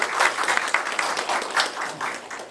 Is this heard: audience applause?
yes